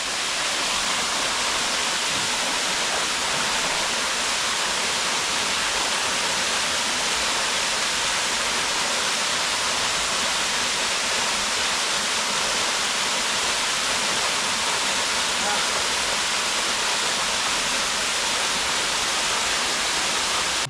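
Water from waterfalls rushes around both sides of an egg-shaped rock in a stream above the Tolminka falls in the Soča valley, a steady, loud, close roar with no break for about twenty seconds and nobody speaking.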